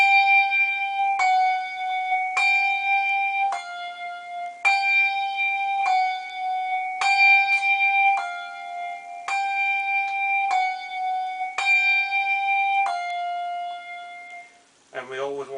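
Handbells rung one after another in a slow, even sequence, each bright strike cut short by damping before the next, about a dozen clear metallic tones close up, with a softer shimmering ring at the very end.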